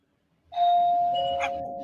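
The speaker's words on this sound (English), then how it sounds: "Kristen, ring the doorbell" An electronic doorbell chime at a cabin rings out clearly after a brief silence, one sustained tone that holds and rings on, close and fairly loud.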